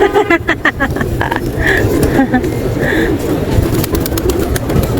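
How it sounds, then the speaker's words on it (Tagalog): White pigeons coo repeatedly at an outdoor plaza in Waqif, their soft calls close and recurring over a busy wash of background noise. "May mga puting kalapate rin."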